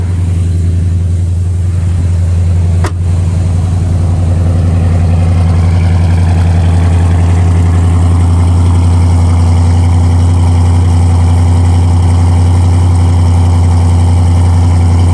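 A 1970 Chevrolet Malibu engine idles loudly and steadily with a deep, throaty rumble, briefly interrupted by a single click, and no one speaks.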